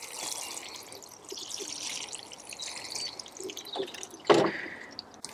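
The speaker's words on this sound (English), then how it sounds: "Before sowing, I'm just going to give it a little water and let that drain through." Water trickles and drips as it drains through Melcourt compost in seed module trays, a soft, steady wet patter with a brief louder splash near the end.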